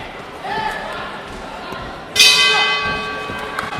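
A single bright boxing round bell clang rings out and lingers, ending the first round, over crowd noise and a commentator's voice.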